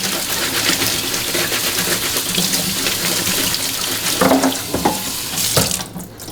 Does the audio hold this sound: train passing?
no